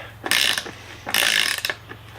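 A Suzume extra-long flex-head ratcheting wrench with a fine 5-degree swing clicks in two quick bursts of rapid ratchet ticks, close and crisp, with no talking.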